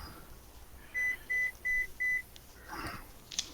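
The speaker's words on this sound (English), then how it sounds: "I just got a text from somebody." Phone text message notification: four short, clear, evenly spaced electronic beeps at the same pitch, close and distinct, followed by quieter handling noise.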